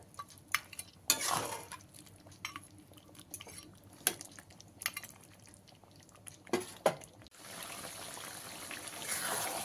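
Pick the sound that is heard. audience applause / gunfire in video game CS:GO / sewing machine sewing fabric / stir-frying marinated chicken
stir-frying marinated chicken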